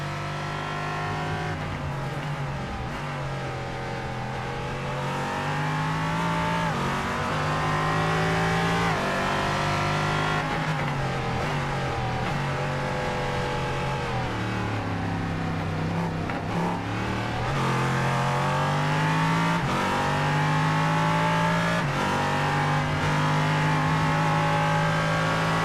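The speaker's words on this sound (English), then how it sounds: "let's listen to this beautiful sounding LMP3 as it roars around Aragon" An LMP3 race car engine in iRacing roars continuously around Aragon, revving up and down through gear changes, loud and sustained with no talking.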